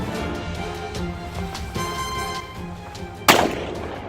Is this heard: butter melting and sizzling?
no